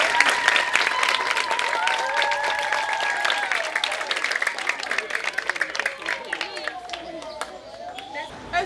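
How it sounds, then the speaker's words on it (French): A crowd of schoolchildren cheering and applauding loudly, with high shouts and whoops riding over dense clapping and hubbub that fades slightly toward the end. "on manifeste par les acclamations"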